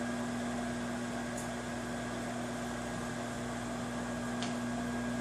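Microwave oven running steadily while heating clam chowder in a mug, a constant mechanical hum with a fan-like whir and faint electrical buzz, continuous and close with no talk.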